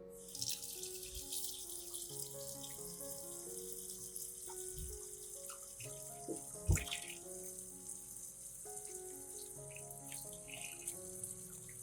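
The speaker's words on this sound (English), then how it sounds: "Then rinse twice with water, preferably under running water." Steady water running from a tap, a continuous splashing rush with occasional clinks and knocks of dishes or objects being rinsed underneath.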